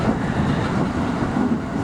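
A KRL commuter train races a long-distance train on the double track between Jatinegara and Cakung, making a steady, close, continuous rail rumble with a low rolling roar throughout.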